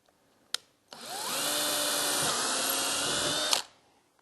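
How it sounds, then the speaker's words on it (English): A power drill bores through a cabinet door frame, spinning up after a couple of clicks into a loud, steady whine for about three seconds before stopping. "you'll take your drill and go through on your door frame"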